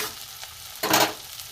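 Chopped vegetables and green chilli hitting a hot pan, a quiet background hiss broken by one sudden loud sizzling burst that fades over half a second.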